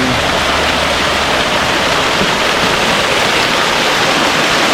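The Bluefields River in Westmoreland rushes past in a loud, unbroken roar of flowing water, close by, with no voices.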